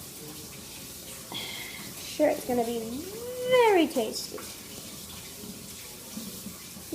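A kitchen tap runs steadily while cone cakes are washed under it, giving a continuous hiss with some clatter. A person talks over the running water.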